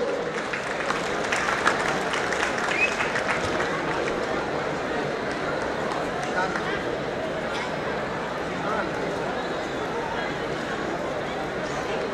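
A big crowd under a pavilion at an Uttar Pradesh Day ceremony claps continuously for athletes, a steady wash of applause with scattered voices and hubbub underneath.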